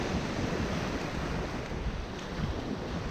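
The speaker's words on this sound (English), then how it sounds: "The ocean is very calming," Ocean waves wash steadily near Sandy Hook, New Jersey, a broad continuous surf roar mixed with wind buffeting the microphone, fairly close and even in level, with no voices.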